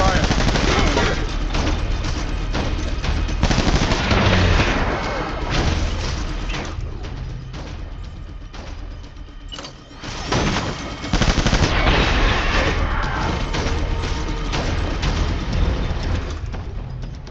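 Heavy automatic gunfire roars through a combat scene in Death Stranding, dense continuous volleys close by, dipping briefly before resuming at full intensity.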